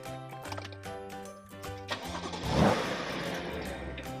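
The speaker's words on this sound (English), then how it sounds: "Let's start the car up." A BMW M2 Competition engine cranks and catches, then settles into a steady idle hum after some low rhythmic tones.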